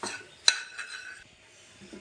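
A metal pan is set back down on a kitchen stove with one sharp clank, close by, while cooking a besan bhurji. Faint kitchen rustle follows.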